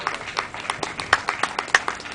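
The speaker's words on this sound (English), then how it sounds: "he even gets a round of applause from Gearns" A small audience at an open mic gives a round of applause, a thin, scattered clapping from a few close hands in an uneven rhythm, with a voice briefly cheering over it.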